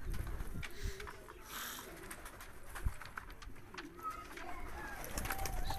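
Roller pigeons, a high-flying breed kept for sale, coo softly in their loft. Low, repeated burbling calls sit under faint background voices and rustling.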